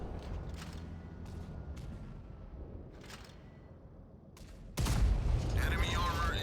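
Tank cannon fire and shell explosions from World of Tanks Blitz during a Blitz Cup tournament match form a rumbling, dense battle backdrop that turns into a sudden loud blast near the end.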